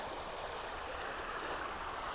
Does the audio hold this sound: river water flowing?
yes